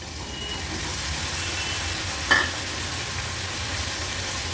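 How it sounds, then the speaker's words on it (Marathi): Cauliflower tipped into a hot pan of oil with turmeric and spices, frying with a steady close sizzle and a brief clatter as it lands and is stirred. "आता हा फ्लावर ऍड करूया।"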